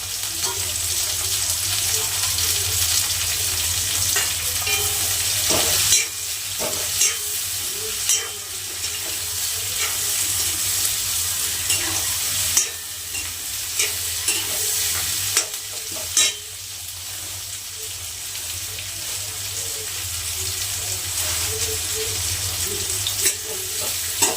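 Chopped tomatoes and coriander sizzle steadily in a hot pan while a spoon scrapes and stirs through them in repeated sharp strokes, close and fairly loud.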